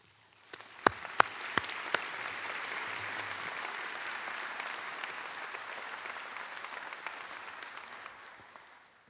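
Applause fills a dentistry commencement ceremony: a few sharp individual claps start it, then sustained, dense crowd clapping from a large audience holds steady and fades slightly at the end, heard at a moderate distance.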